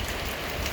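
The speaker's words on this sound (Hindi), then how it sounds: "एक जंगल है और इस जंगल में ये गिरती हुई बूंदें, ऐसा लग रहा है जैसे गुनगुनाती हुई गिरती हैं टपक से बूंदें।" Rain falls steadily through a forest at Lonavla, a dense, even patter of drops on leaves and ground that fills the whole moment with no voices.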